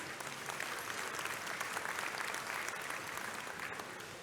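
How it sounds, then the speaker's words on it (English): An audience at a book launch claps steadily, a dense, even wash of applause that holds at the same level from start to finish. "Can we give him a round of applause, please?"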